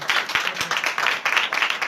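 A crowd at a gathering claps to welcome a guest, a short, dense burst of applause with rapid, uneven hand claps close by.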